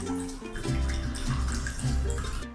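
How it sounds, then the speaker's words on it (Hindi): Water runs and splashes steadily over freshly made homemade paneer as it is rinsed, a continuous close gushing with no voices. "इसे कम से कम 2 बार आप पानी से धो लीजिएगा"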